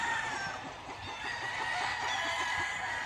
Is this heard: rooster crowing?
yes